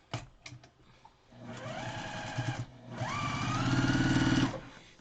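A small Brother domestic sewing machine quilts a block in short runs, revving up in two bursts that rise in pitch and hold briefly before stopping, preceded by a few quiet clicks.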